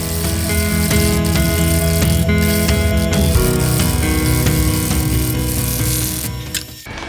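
A wood lathe spins while a cutting tool peels shavings from the turning workpiece, a loud continuous whirring with a dense rattling, ratchet-like texture that fades near the end.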